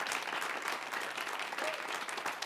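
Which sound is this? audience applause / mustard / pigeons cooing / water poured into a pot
audience applause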